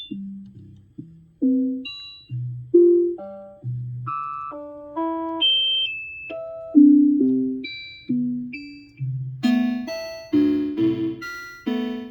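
A homemade step synthesizer plays a sequence of bright electronic tones stepping around in pitch, jumping between low and high octaves randomly at a steady rhythm, with no talking.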